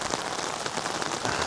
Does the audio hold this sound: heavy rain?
yes